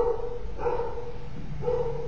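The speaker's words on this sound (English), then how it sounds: "And there's a dog downstairs barking." A dog barking downstairs in a home, muffled by the floor between, giving two or three short woofs with a pause between them, steady and fairly loud, with no talk.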